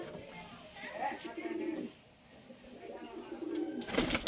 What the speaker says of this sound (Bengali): মালবার পায়রাগুলো দেখুন।